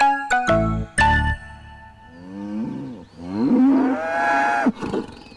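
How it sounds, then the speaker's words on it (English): A horse or donkey calls loudly and close by, a series of harmonic brays or whinnies rising and falling in pitch, with no talk. "Was that horse talk?"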